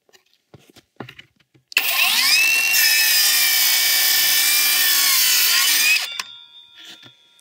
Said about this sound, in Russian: Распилим доску дюймовку.